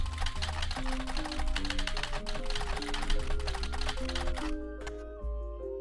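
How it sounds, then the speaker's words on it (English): Rapid, rhythmic keyboard clicks from a video game tap out fast over a tonal musical backdrop, close and continuous before stopping near the end as a low tone lingers. "I like the typing sounds."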